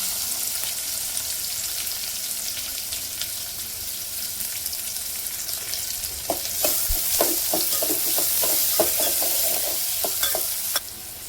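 Curry leaves, asafoetida and chopped onion hitting hot oil for a Vidarbha-style dal bhaji, a loud continuous hissing sizzle up close, joined midway by a quick run of clicking stirs in the pan, with no speech.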